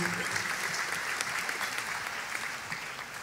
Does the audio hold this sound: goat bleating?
no